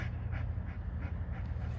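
A dog pants steadily and close by during bite-control training, a continuous breathy rhythm over low background noise with no talking.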